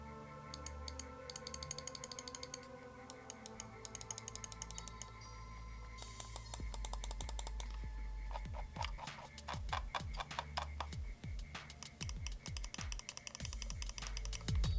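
Button clicks from a Cougar 230M 90-gram ambidextrous gaming mouse with Omron switches for the left and right buttons, recorded up close as long runs of rapid, sharp clicks, some in fast bursts and some more spaced.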